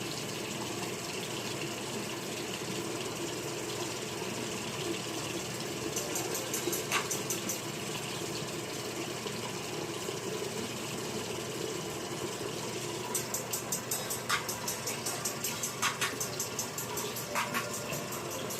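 Cold tap water running steadily into a sink while warming up, a constant hissing gush at low level with occasional clinks and brief bursts of rattling, no voices.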